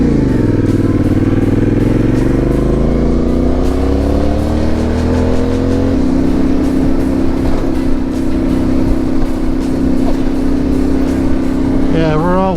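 A Yamaha T7 motorcycle fitted with an aftermarket high fender rides through wet mud on a dirt road. Its engine drones loud and steady, climbing in revs early, then shifting pitch and holding a rough, continuous note.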